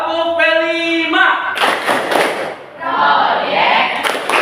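Students at a school lesson perform the P5 clapping chant, a burst of loud group claps and shouts following a sung tone, with rhythmic clapping continuing after a short dip.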